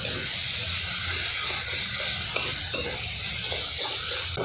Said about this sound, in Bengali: এবার বেটে রাখা মশলা এর মধ্যে দিয়ে দেবো। এটা কিন্তু ভালো করে কষিয়ে নেব।